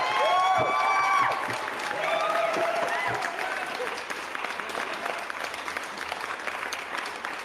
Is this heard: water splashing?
no